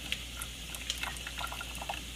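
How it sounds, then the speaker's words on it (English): Boiling water bubbling and hissing steadily at close range, with light gurgles and a faint low hum underneath, no voices. "So boiling water."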